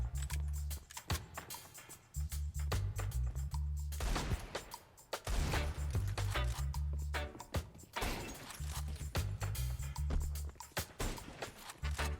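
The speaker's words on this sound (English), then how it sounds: "I'm trying to shoot him with the M4" Rapid M4 rifle bursts in Counter-Strike 2, loud and close, firing in several sustained volleys separated by short pauses, with a few isolated shots and game noises between them.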